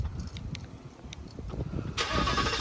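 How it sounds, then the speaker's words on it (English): A Ford Mustang GT starts up: a faint rustle and jangle of keys, then the engine catches with a sudden loud roar and settles into a strong, rumbling idle close by. "just how it sounds turning on right now"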